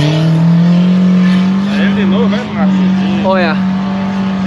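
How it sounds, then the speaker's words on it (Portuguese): A 4x4 off-roader's engine strains loudly on a sand dune as it tries to climb, with a steady low drone up close and rising revs, while people talk excitedly over it. "Tá sem força esse carro."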